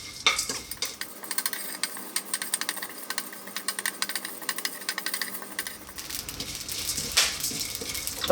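Whole spices dry-roasting in a hot pan while being stirred, giving a steady close scraping and rattling with light sizzle, no talk.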